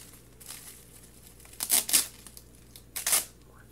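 Floral-print tape peeled from a box during an unboxing: a faint strip at first, then two sharp close tearing bursts, alone with no voice.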